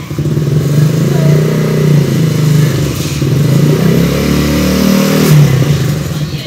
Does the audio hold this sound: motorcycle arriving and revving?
yes